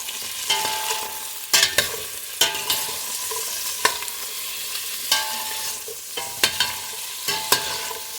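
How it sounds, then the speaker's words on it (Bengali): Potatoes and mixed vegetables fry in hot oil for a temple-style khichuri bhog, with steady sizzling broken by repeated scraping stirs of a spatula against the pan, close and clear with no talk. "আলুও হালকা ভাজা হবে।"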